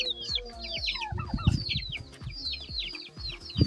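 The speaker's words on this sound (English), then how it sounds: "Let me show you the chickens." Chickens cluck and call on an African family farm, with several birds sounding close together in a steady, busy chorus of short overlapping clucks and squawks throughout.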